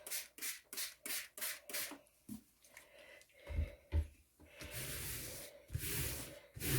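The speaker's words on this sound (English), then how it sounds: "Now I'm just going to spray with this a little bit water." Water spritzed from a hand spray bottle onto a brown paper bag, a series of short close hissing bursts in quick rhythm, then longer sustained sprays toward the end.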